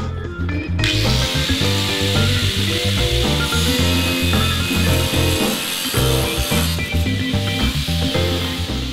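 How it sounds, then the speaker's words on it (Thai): An angle grinder cuts a cement smartboard sheet with a loud, continuous harsh whine and gritty rasp, steady throughout and close to the listener, with no talking. "ซึ่งการตัดสมาร์ทบอร์ดนะครับผมก็จะใช้ลูกหมูในการตัดเหมือนกันนะครับ"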